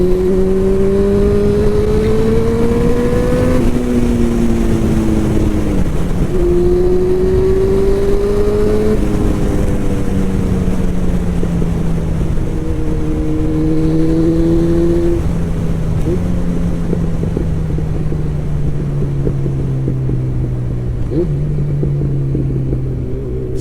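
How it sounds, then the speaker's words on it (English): A motorcycle engine revs up and shifts through gears repeatedly during a ride in traffic, its loud, close drone rising in pitch and dropping at each change, with wind roar throughout. "Sounds so good, this bike."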